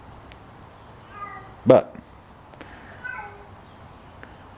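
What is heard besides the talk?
cat meowing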